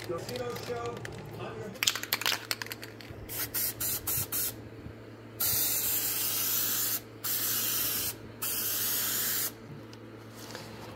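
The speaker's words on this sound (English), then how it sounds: "We're going to go ahead and take my tack cloth to this. Get off all the excess." A tack cloth is wiped across a car surface during a Subaru repair, giving bursts of soft rubbing and swishing strokes in uneven blocks, fairly close, with faint talk at the start.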